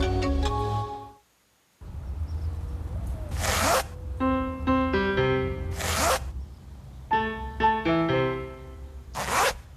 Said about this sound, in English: Introducing the new Pedigree Slide Right Zipper Bag.